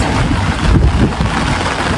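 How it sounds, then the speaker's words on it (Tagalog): Heavy rain pours down outdoors in a steady, dense hiss with gusty rumbling, loud and close, with no voices over it. "Sobrang ulan na mga kigwahers."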